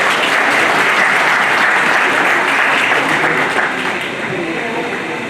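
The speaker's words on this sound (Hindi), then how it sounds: "जोरदार तालियां एक बार" Loud, sustained applause from a crowd at a retirement ceremony honoring Vijay Singh Yadav, dense and even throughout, tapering slightly toward the end.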